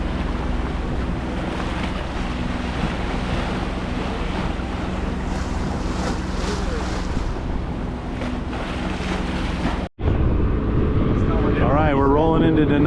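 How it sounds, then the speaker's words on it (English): Rough water roiling and churning around the Heron as it heads into Nanaimo harbor, a constant heavy wash and wind rush that cuts off abruptly near the end, followed by closer sloshing and clatter. "there's a lot of water just roiling and boiling here"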